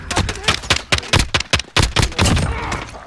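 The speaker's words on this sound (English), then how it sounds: "This pistol does not do any damage." Rapid pistol gunfire in Modern Warfare, a run of sharp, close shots in uneven bursts, some tightly spaced and some with short gaps, loud and crisp.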